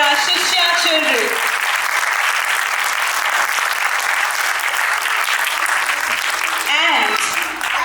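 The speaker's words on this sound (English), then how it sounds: "Give a big round of applause for our Shishyaa children." Audience at a Waldorf school Grade 8 drama performance giving the children a long, loud round of applause, dense clapping from start to finish with voices briefly audible at the beginning and near the end.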